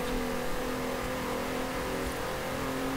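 Golf hatchback engines straining up an incline in Forza Horizon 4, a steady, loud droning growl held at constant revs throughout with no breaks.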